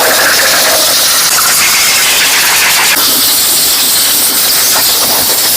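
Compressed air blasting steadily over a transmission being cleaned, a loud, continuous close hiss with slight shifts in tone as the nozzle moves.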